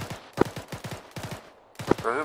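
Bursts of rifle fire crack in rapid volleys in the military shooter ArmA 3, several close shots in quick succession with short gaps between them.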